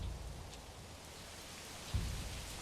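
Steady rain hisses through the medieval village of the video game Manor Lords, a continuous wash of falling drops with a soft low rumble swelling briefly near the end.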